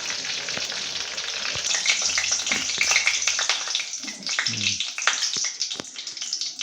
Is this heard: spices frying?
yes